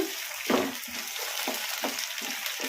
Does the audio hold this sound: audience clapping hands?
no